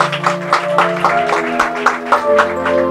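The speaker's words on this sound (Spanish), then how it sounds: "Dele un fuerte aplauso a nuestro Dios." A church congregation gives a strong round of applause to God, rhythmic clapping at a steady beat over sustained music tones, loud and close.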